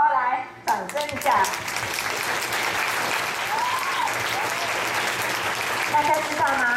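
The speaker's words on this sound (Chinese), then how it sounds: "我们6年1班蔡博来掌声一下。" Applause from the audience at a primary school graduation ceremony during the life-fighter award presentation, a dense, sustained clapping crowd that swells after a brief opening moment and carries on steadily, with a voice speaking over it.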